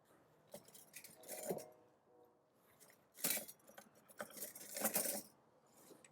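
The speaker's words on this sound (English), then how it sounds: "I'll stir it continuously" Spoon clinking and scraping against a pot as cornmeal is stirred into boiling water, a series of scattered metallic taps and scrapes at close range, moderately quiet.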